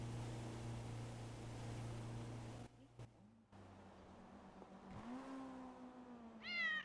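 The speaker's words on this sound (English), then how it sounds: "I got a cat here." A cat meows in the video game GTA V, a faint rising and falling call near the end over a low engine-like drone and background hum, with some muffled handling sounds.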